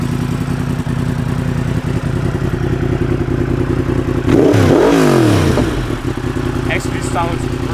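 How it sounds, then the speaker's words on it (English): Yamaha MT-10 naked motorcycle with a crossplane inline-four engine idling with an uneven, lumpy beat, then a sharp rev that rises and falls in pitch before settling back to idle, loud and close. "as you can hear, the sound is a lot different from the normal inline 4, and it's due to the sequence of the cylinders firing"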